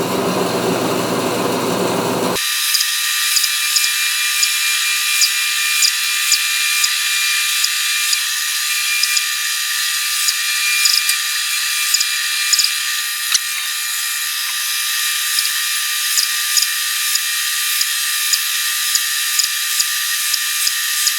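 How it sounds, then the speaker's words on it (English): Bandsaw cutting wood for miter joint splines, a loud steady high-pitched whine after a brief start, droning without a break with faint periodic ticks, no voices. "use the bandsaw. I'll hit it all in one shot, and makes it very quick, very easy"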